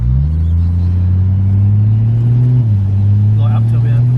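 Ford Falcon XR6 with a big turbo upgrade pulls under acceleration, a loud, close, steady low engine drone inside the car that steps down briefly partway through, with a voice talking over it.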